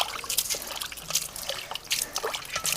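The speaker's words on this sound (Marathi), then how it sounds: "फक्त पाणी मारून घ्यायचं आपल्याला ह्याच्यावर बरं का" Water is splashed over a clay water pot to rinse it, a series of uneven trickles and patters in short bursts, close and fairly quiet, with no talking.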